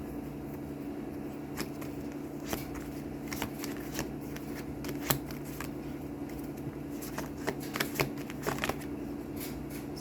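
A deck of tarot advice cards is shuffled close up, with a steady riffling texture broken by sharp snapping flicks of the cards over a faint background hum.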